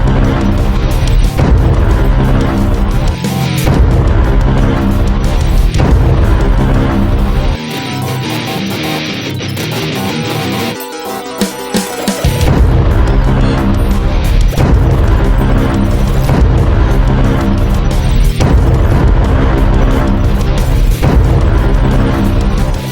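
Napalm attacks in the Ghouls 'n Ghosts arcade game set off loud, repeated booming blasts over dense game music, with a short quieter gap midway before the barrage resumes.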